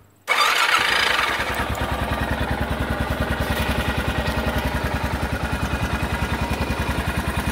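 A motorcycle engine cranks and catches almost at once, then settles into a loud, close, steady idle with a rapid, even chugging beat that runs to the end.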